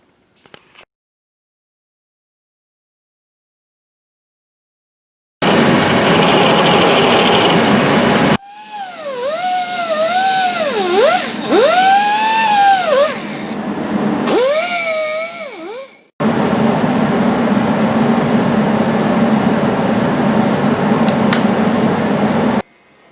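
A chainsaw with a modified muffler, used for felling trees, starts after a brief silence and runs loud and close. Its pitch climbs and falls through several revs mid-way before it settles back to a steady, raspy roar.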